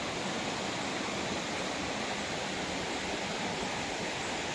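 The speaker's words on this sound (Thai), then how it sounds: "หรือน้ำตกตรงนี้ก็ไหลลงไปสู่ข้างล่าง" A waterfall pours down over large rocks to the pool below, a steady, full rushing roar of falling water that fills the whole clip at an even level, close and with no voices.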